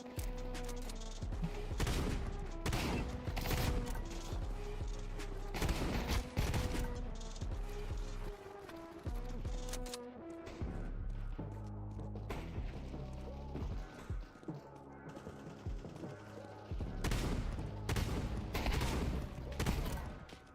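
Rapid bursts of gunfire in a video game shootout, shotgun blasts among them, fire loudly and densely over a constant backdrop of game music and effects, with brief lulls before the shooting picks up again.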